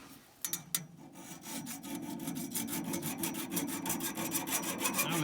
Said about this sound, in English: Right, we'll take that burr off first and then we'll see if it's bent.